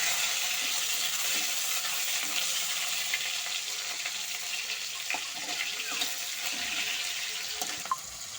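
Onion and tomato fry in a pan for homemade chowmein, a continuous close sizzle with faint stirring and scraping throughout and no voices.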